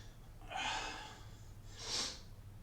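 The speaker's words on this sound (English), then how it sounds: "You get to breathing heavy" Two heavy, breathy snorts or gasps come through the nose during a push-up workout, about a second apart. Both are close and fairly soft, with no talking.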